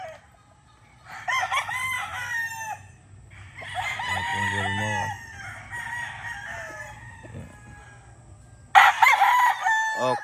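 A Gilmore gamefowl rooster crows several times in clear, loud bursts, with a final crow close up near the end. Softer clucks and farmyard noise fill the gaps, and there is no speech.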